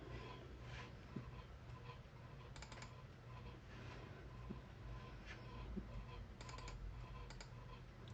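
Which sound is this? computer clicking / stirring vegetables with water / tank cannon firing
computer clicking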